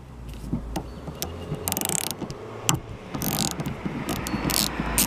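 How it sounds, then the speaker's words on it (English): Ratchet clicks and mechanical ratcheting as a 10 mm socket works the rear wiper arm nut on a Mazda CX-5, several short bursts of close, moderately loud clicking over low background hum, with no talking. "That's a 10 millimeter, which I've got a 10 millimeter socket ready to go right here."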